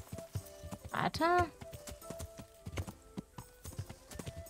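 Rhythmic hoofbeats clop steadily from a horse ridden cross-country in the video game Kingdom Come: Deliverance, a horse whinnies briefly, and a voice speaks faintly.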